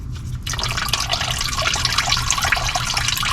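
Old motor oil pours from a car's oil pan drain into a catch pan, a continuous splashing trickle close by that starts abruptly and keeps a steady flow.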